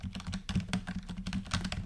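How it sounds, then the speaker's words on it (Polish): Fast, loud keystrokes on a new computer keyboard clatter close by in a dense, continuous stream, with a low electrical hum underneath. "Nowe klawiatury bardzo głośne"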